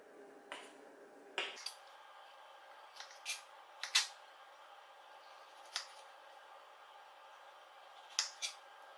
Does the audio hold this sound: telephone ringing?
no